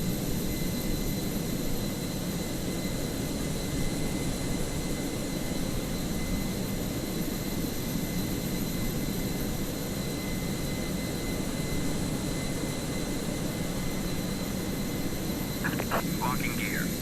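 Jet airliner taking off in Microsoft Flight Simulator, an Adria Airways flight, heard as a steady engine roar and whine held at constant level throughout, with a brief clicking near the end.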